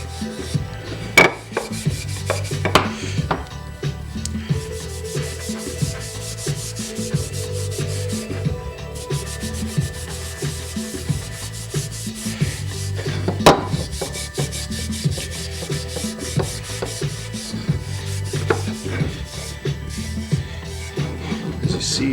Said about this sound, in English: It'll sand out with the steel wool here.